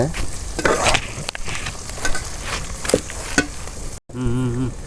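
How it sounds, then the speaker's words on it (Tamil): Onions and green chillies sautéing in a pan for a red crab gravy give a crackling sizzle with stirring scrapes and a few louder clatters; after a brief drop-out, a short musical tone ends the clip. "வெங்காயம் பச்சை மிளகா எல்லாம் வதங்கிட்டு"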